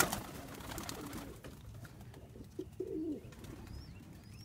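Young Budapest High Flyer pigeons coo softly at close range over a low background murmur, with faint wingbeats and light chirps mixed in.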